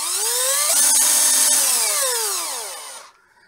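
A cordless electric drill runs with a strong motor whine that climbs in pitch, holds steady, then winds down and cuts off after about three seconds, heard up close with no talking.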